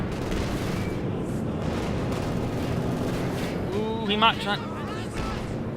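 Anti-tank gun and artillery fire in the video game Company of Heroes 2, a steady rumble of booms and blasts under continuous talk, with a short louder burst near the end.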